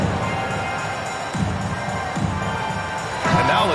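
Arena crowd cheering at an NBA 2K23 video game matchup between the Washington Wizards and Indiana Pacers, a steady roar of noise that swells louder near the end, with a voice speaking over it.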